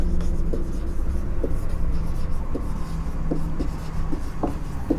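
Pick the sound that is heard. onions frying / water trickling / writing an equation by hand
writing an equation by hand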